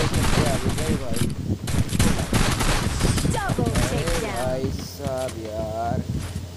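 Rapid bursts of Free Fire video game gunfire in a ranked match, dense automatic shots running under excited continuous talking.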